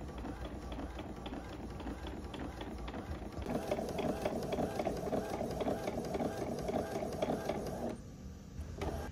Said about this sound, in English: The image was printed from the phone.